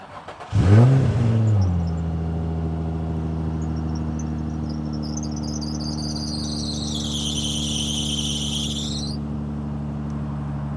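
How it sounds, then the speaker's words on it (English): A Nissan 350Z engine starts with a loud surge, then settles into a steady, droning idle with a faint high whine riding above it, running alone with no talking. "Does your car sound like Dave's car?"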